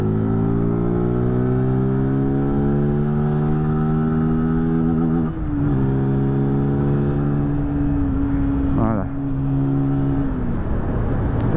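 Motorcycle cruising on a French highway, its engine a steady loud drone with harmonics that rise gradually as it accelerates, two brief gear-shift dips, and wind and road noise throughout, no talking.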